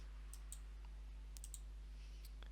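Mouse clicks on a button in a touch panel editor on a computer: several light, quick clicks scattered over a steady electrical hum, faint and close with no talking.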